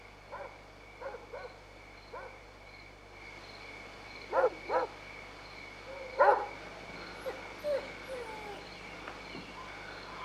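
A dog barks inside a barn, a few scattered yips and barks over a steady low hum, muffled and somewhat distant, with no voices.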